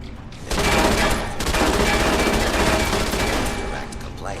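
Automated turrets in Fallout New Vegas fire a dense, continuous stream of rapid shots that starts abruptly and stays loud and steady for about four seconds.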